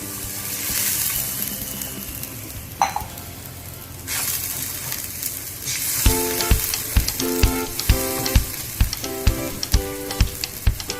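A glass of water poured into sizzling fish curry masala, a bright gushing hiss at first that settles into steady frying, then a run of rhythmic sharp knocks of a spoon against the pan, close and fairly loud.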